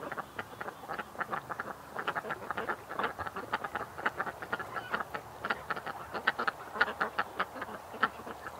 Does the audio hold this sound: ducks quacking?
yes